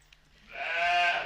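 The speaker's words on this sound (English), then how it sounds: "Well, this is Dolly. A sheep" Dolly, the cloned sheep, gives a single drawn-out bleat that swells in after a quiet moment, fairly close and clear with no voices.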